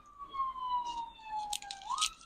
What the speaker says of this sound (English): We've got a siren is what we've got.